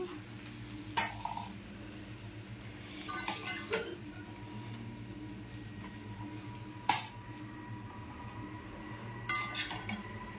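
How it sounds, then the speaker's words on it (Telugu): Utensils clink and scrape against dishes while food is served onto plates, a few scattered metallic taps and scrapes over a faint background hum. "ఇప్పుడు ఇది ప్లేట్లు వేసేద్దాం."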